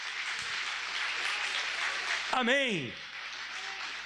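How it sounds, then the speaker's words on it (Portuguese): Steady applause from a church congregation runs throughout, with a single voice speaking briefly over it midway. "Aplauda bem forte ao Senhor."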